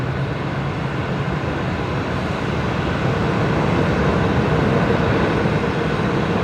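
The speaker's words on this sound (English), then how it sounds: "I don't think I can recall hearing Emirates spooling up that loud from here." Emirates jet at Brisbane Airport, engines spooling up into a loud, sustained broadband roar that swells slightly partway through and holds steady, with no talking.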